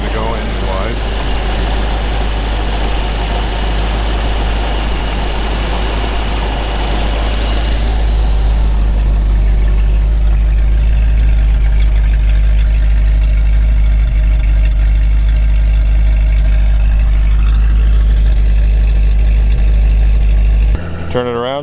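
A 1932 Ford Victoria retro-rod with a 350 V8 on Sniper EFI idles with a loud, steady low rumble that stays even throughout, with someone talking over it near the start.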